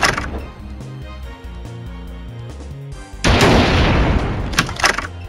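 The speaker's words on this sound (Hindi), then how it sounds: "ये धमाके कौन करता है यार? ओ किसी ने अपने को ग्रेनेड फेंका दिया." A dense barrage of booming grenade explosions and gunfire-like bursts in the video game Sasta James Bond: Operation Pinkeye, a sharp, louder blast erupting partway through and rumbling on.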